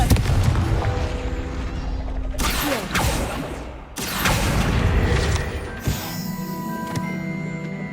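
A Confringo spell blast in Hogwarts Legacy: loud, booming fiery impacts with crackling debris and rumbling tails, two or three big hits over a dense, continuous roar of game effects.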